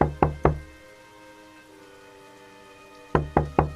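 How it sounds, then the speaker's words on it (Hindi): Three quick knocks on a door, a pause with a faint steady hum, then another set of three sharp knocks, close and loud. "मीना दरवाजे पर दस्तक देती है।"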